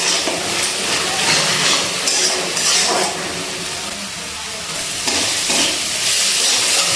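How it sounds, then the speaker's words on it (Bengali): Spice paste being stir-fried in a pan on a low-to-medium gas flame for a Bengali drumstick and potato curry, with steady sizzling and hiss and occasional scraping stirs, close and continuous throughout. "গ্যাসের ফ্লেমটা লো টু মিডিয়ামে রেখে মশলাটা খুব ভালো করে কষিয়ে নিচ্ছি।"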